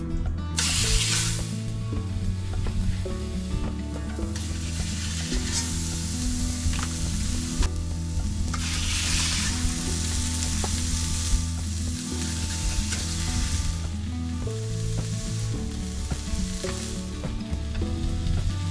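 Turkey burgers frying in a pan give a loud, dense, continuous sizzle that crackles and hisses steadily throughout, with faint mechanical clicks underneath and no speech.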